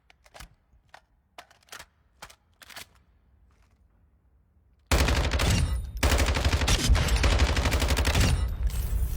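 Video game machine gun fire in Call of Duty: Modern Warfare II: several short separated bursts give way to loud, sustained automatic fire with dense rapid shots, briefly interrupted once.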